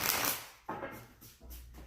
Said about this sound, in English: What I do is I shuffle 3 messages and I pull 1 card from the bottom of the deck.